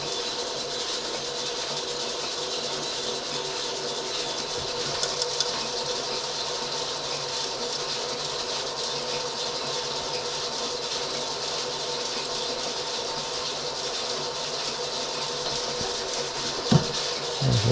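A milling machine turns at a turned-down low speed while counterboring holes to one inch, giving a steady, even mechanical hum and whir throughout, moderately loud and unbroken, with a brief clunk near the end and no talking.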